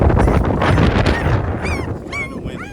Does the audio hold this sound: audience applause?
no